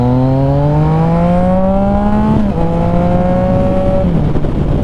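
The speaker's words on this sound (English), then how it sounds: "Has like that low grumble, and then it has like a nice top end like inline 4 type of sound." A Yamaha XSR900 motorcycle's engine pulls hard, its pitch climbing steadily through two gears with a brief dip at the shift, loud and close throughout with no talk.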